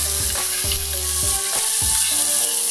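Garlic and onions fry in a hot pan with a steady loud sizzle, broken by several rhythmic scrapes as they are stirred, no voices.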